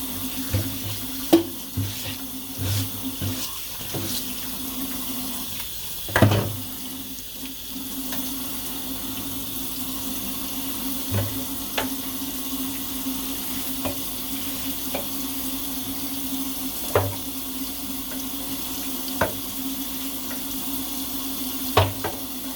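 Hot water runs steadily from a tap into a sink during hair washing, a continuous hissing splash with occasional clunks and knocks of handling, heard close and alone without talk.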